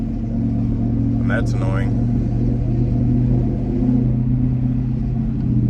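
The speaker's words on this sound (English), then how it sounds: "Ain't nothing better than that turbo noise, boys." A twin turbo Ford F-150 engine rumbles steadily from the cab, with a low drone and a brief rising whistle or whoosh partway through. Someone talks over the engine noise.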